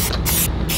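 Spray paint can hissing out a coat of paint onto a trade show enclosure in three close, loud bursts of broadband hiss with brief pauses between, heard alone.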